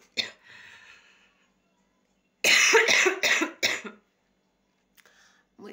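Several harsh coughs in a quick cluster sound close to the microphone, preceded by a soft breathy sound and followed by silence and faint movement.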